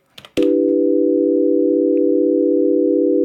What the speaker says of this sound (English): now that's super boring because it's just sine waves